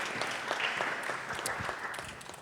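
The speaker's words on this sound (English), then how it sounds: "Round of applause for one person who has bravery." An audience at a Nerd Nite science talk applauds a volunteer coming up on stage, a dense patter of many hands clapping at moderate volume, fading slightly toward the end.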